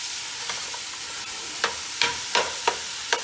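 Sausage cooking on high heat in a pan for jambalaya gives a steady close sizzle, with a run of sharp clacks from a utensil breaking it up toward the end, no talking.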